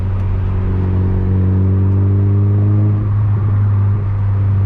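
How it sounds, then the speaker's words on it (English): Mazda MX-5 NB roadster pulling through a gear at night on UK roads, a steady low droning exhaust note with rising harmonic whine, heard close from inside the cabin with no talk. "I want to hear some of the exhaust though"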